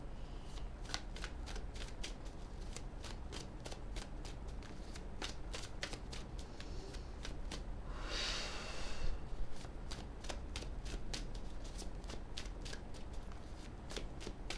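Tarot cards are shuffled close by, a quiet, rapid and steady patter of riffling card edges running throughout, with a slightly busier flurry near the middle.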